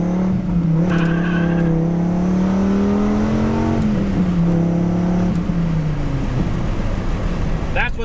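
A Dodge Viper sports car engine revs loudly and close, its pitch holding steady, rising, then dropping through several long pulls with no talking.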